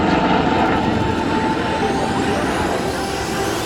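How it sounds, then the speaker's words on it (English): An Italian Air Force Agusta HH-139B helicopter approaching during a rescue demonstration at an air show, its engine and rotors a steady loud whine and drone, with no talking. "The helicopter is now approaching the survivor."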